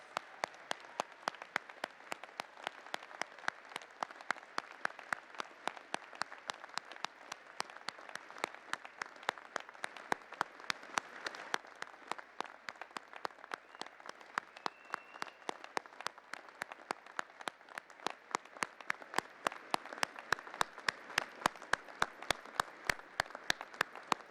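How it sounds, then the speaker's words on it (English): Sustained applause from a large university convocation audience, dense and even throughout, with one clapper's sharp, regular claps standing out near the microphone and growing slightly louder toward the end. "Let's give everyone a round of applause"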